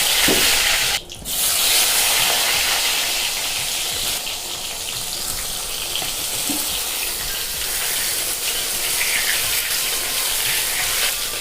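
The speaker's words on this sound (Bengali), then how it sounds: "তেলটা গরম হয়ে গেছে, একটু নেড়ে দেব। এবার বেগুনগুলো দিয়ে দেব।" Eggplant pieces fry in hot oil. A loud, spraying sizzle briefly dips near the start, then settles into a dense, steady hiss with faint crackles.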